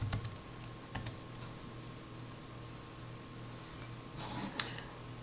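Computer keyboard on a Mac being typed on, a few quiet isolated key clicks at the start and near the end over a faint electrical hum, close but soft.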